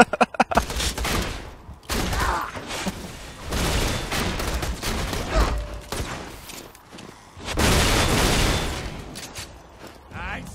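Borderlands game gunfire with Claptrap crackles in rapid bursts, a quick volley of shots at the start and then several dense, loud stretches of firing, with voices talking between them.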